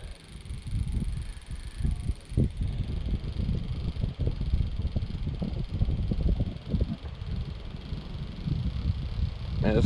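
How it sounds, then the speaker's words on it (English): Strong gusty wind buffets the microphone beside a lake during a fishing outing, a constant low roaring rumble with flapping bursts throughout, loud and close, with no voices over it. "man, this wind is bad, guys. Real bad."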